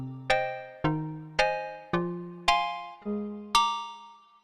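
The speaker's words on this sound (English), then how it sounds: "Number 13 is a church bell." Church bell factory patch on a Roland JX-8P and PG-8X synthesizer, a metallic FM-style bell tone struck seven times in a steady rhythm, each strike ringing bright and close before decaying, with no voice.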